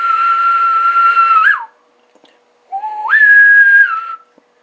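A person whistles into a Realistic TRC-458 CB radio, producing two steady sustained tones with sliding pitch changes, separated by a short silence, clear and close.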